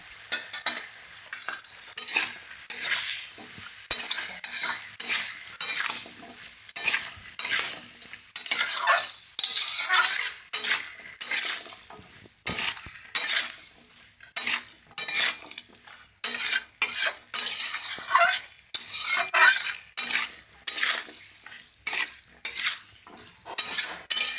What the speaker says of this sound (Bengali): এবার আমি ভালো করে কষে নেব